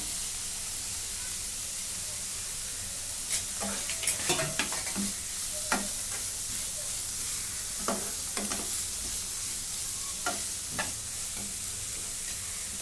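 Chopped tomatoes sauté with garam masala in a pan for an egg hariyali curry, giving a soft, steady hiss broken by scattered scraping and tapping stir sounds, fairly quiet throughout.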